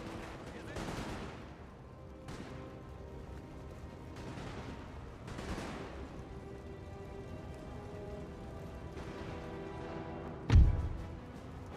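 Gunfire from a Napoleonic-era battle in a strategy video game, with repeated muffled musket volleys rolling at intervals, fairly faint and distant, and one sharp louder bang near the end.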